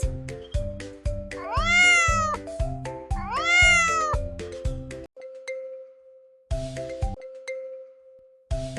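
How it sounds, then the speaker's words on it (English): A cat meows twice, each meow drawn out and rising, over a bouncy plucked music loop that pauses for a lingering chime. "This is a cat."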